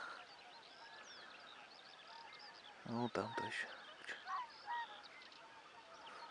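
Geese honking during a spring hunt at sea, scattered calls from a flock overhead mixed with swans, faint and distant with a few louder honks; someone speaks briefly midway.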